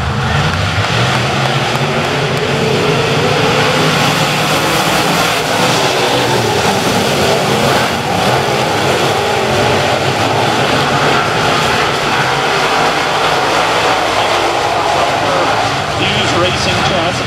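USMTS modified race cars roar together as a heat race takes the green at Humboldt Speedway, a dense, loud, continuous engine wash under an announcer's steady commentary.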